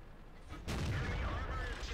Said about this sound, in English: So I shoot down onto him again.